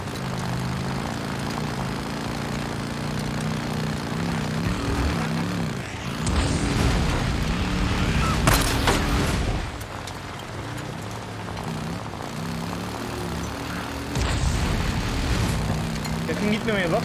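A helicopter drones overhead in the video game Days Gone, a steady rotor and engine hum that swells louder midway, with voices talking throughout.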